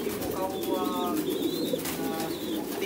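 Pigeons at a pigeon farm cooing in repeated soft, throaty phrases, fairly close and steady over a constant ambient hum, with a voice faintly present.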